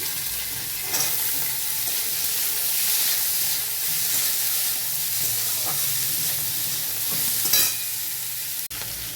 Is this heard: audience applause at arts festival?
no